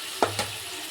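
Fried potatoes dropped into a pan of sizzling spice masala, a quick soft thump and splash followed by a brief burst of hiss, close and alone.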